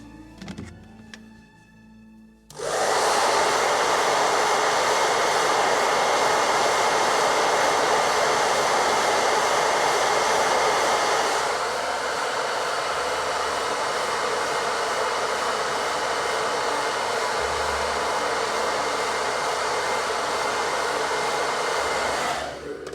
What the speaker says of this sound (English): I'm just gonna make sure that I gently blast it again with the blow dryer